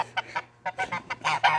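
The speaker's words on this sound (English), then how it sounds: "the geese aren't a fan of Penny either." Angry geese honk in a rapid series of short, harsh calls, close by and loud, with brief gaps between bursts.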